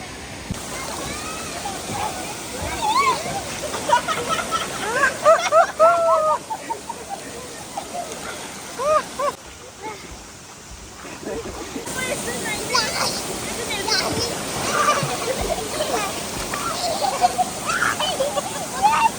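Water sloshing and splashing at a water park in Nagaland, steady and moderately loud, with excited voices and chatter running over it throughout.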